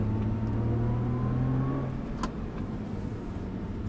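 Nissan GT-R on a circuit, its engine droning under load with a steady low harmonic hum that drops in pitch partway, heard from inside the car, loud and continuous, with a brief sharp click mid-clip.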